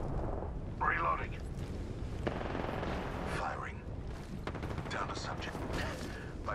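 Gunfire in Apex Legends, dense rapid bursts of shots running continuously with mechanical clatter, while an in-game character voice speaks over the shooting.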